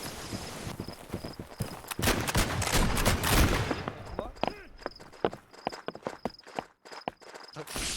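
Hooves clatter in quick, uneven bursts amid sharp cracks of gunfire in a video game battle, thick and chaotic at first, then thinning to scattered shots and steps, with a soft tonal chirp repeating and people talking.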